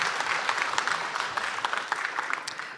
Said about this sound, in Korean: 박수 다시 쳐주세요